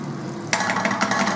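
Butter hits a hot pan halfway through, and a sharp sizzle and crackle starts up over a steady background hiss. Light clatter comes from the cooking but no one speaks.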